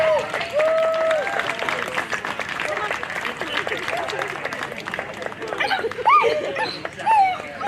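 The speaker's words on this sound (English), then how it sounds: "Round of applause for the Beagle Pack." Applause from spectators at a beagle national dog show, continuous clapping at moderate volume with a few whistles and voices rising through it near the end.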